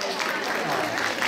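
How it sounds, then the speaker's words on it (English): Children applaud at a school event at Edmonton Khalsa School, a brief burst of dense clapping from a group, with voices mixed in. "Let's give them a round of applause."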